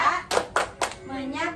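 Children clap in a rhythmic anti-bullying clap chant at an elementary school, three sharp bursts of clapping in a steady pattern with children's voices between them.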